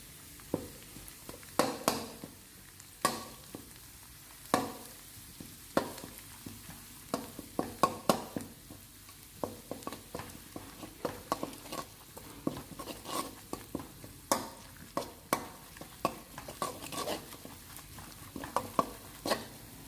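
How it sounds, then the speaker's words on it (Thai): Garlic and Thai roasted chili paste stir-fry in a pan for fried rice with clams, a steady low sizzle broken by frequent scraping, tapping spatula strokes throughout. "กระเทียมส่งกลิ่นหอมดีแล้วก็ใส่เป็นพริกเผาลงไป"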